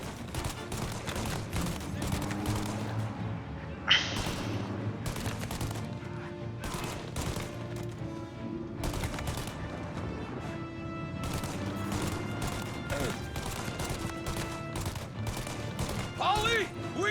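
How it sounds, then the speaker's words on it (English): Gunfire in Mafia Definitive Edition, dense bursts of rapid shots and crashes running throughout, with occasional voices mixed in. "Right, a lot of shooting."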